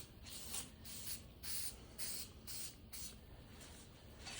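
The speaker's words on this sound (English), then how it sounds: "And I just spray it on the inside here. And then I'll spray both sides." Tire mounting spray hisses onto a motocross dirt bike rim in a series of short, regular bursts, faint and close, with no talking.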